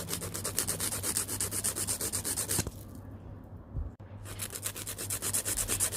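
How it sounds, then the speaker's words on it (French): A nail file rasps back and forth across a fingernail to shorten it, in quick, even close-up strokes, with a short pause midway before the scraping resumes. "Vous prenez votre lime et là vous raccourcissez un maximum."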